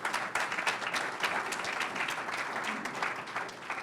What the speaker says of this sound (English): Now give Batesville a round of applause there.